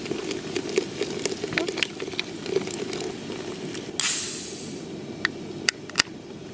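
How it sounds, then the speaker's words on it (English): Cans of cola cracked open for spicy chili give a sharp pop followed by a loud fizzing hiss that fades over about a second, with scattered clicks and small clatters around it. No voices are heard. "Hear that nice pop and fizz? That means it's time to add in the 2 cans of cola."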